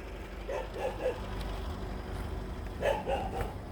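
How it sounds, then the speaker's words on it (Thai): A dog barking at a rice field in a rural Thai farm setting, two short clusters of yapping barks near the start and again toward the end over a steady outdoor background hum. "ถึงนาแล้วเห่าทำไมล่ะลูกเห่าทำไมครับ"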